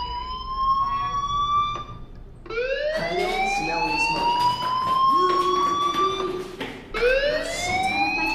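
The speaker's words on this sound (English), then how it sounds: "do you hear that fire alarm? That means you should be outside." A loud electronic fire alarm in Life is Strange with rising, swooping wails that repeat several times, ringing steadily with no voices.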